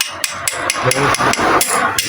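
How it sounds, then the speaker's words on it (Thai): Hammer taps on a Honda Wave 100 magneto flywheel being knocked loose during disassembly, about nine light, evenly spaced metallic strikes in quick succession, close and loud with no talking. "เราก็จับให้แน่นแล้วเราก็ตอกเบาๆนะครับตอกไม่ต้องแรงมากนะครับ"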